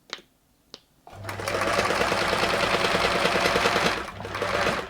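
Two faint clicks, then a Singer 328P sewing machine starts and runs steadily with a rapid mechanical clatter, briefly pausing before resuming, fairly close.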